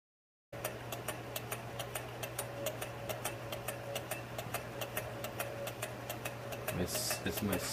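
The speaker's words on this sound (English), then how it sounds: "Besides heat, run your Stirling engine." Small Stirling engine running on top of a wood-burning stove, a quiet rapid regular ticking and clicking with a faint steady hum, close and alone, with a brief louder rustle near the end.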